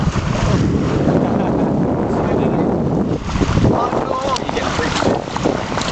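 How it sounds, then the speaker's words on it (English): A Calypso 16 sailboat moving under sail off Seacliff, South Australia, with steady wind buffeting the microphone and water rushing along the hull throughout; voices break in faintly now and then. "Sailing on my Calypso 16."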